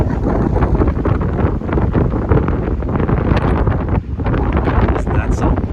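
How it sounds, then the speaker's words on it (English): Strong wind with hail roars and buffets the microphone in heavy, rumbling gusts during a storm in Wells, loud and continuous throughout, with a voice faintly present beneath it. "Very windy."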